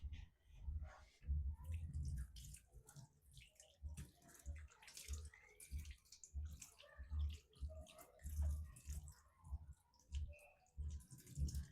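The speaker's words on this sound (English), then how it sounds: "I'm washing my oranges" Oranges being washed under running water, a soft continuous splash with low rhythmic thumps as the fruit is handled, quiet and close.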